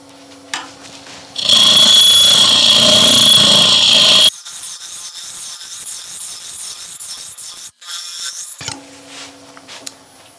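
A tool cutting into wood spinning on a lathe while an open vase is hollowed, giving a loud, harsh burst of broadband scraping for about three seconds over a steady motor hum, then fading to quieter whirring.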